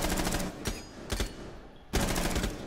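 Automatic gunfire in Rainbow Six Siege as a player sprays a wall: loud, close rapid bursts separated by brief pauses, with sharp individual shots between the strings of fire.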